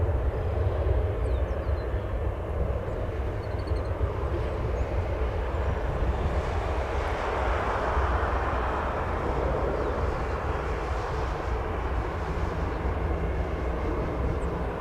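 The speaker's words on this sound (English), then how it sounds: "That aircraft will be taxiing all the way down here to the southwest cargo area." A fixed-wing aircraft taxiing at Chicago O'Hare Airport toward the southwest cargo area gives a steady, broad engine rumble and hiss that holds constant from a distance.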